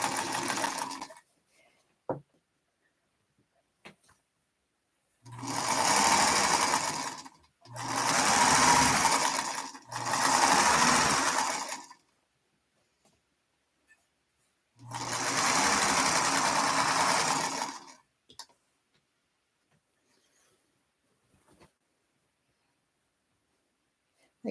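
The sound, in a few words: sewing machine stitching quilt pieces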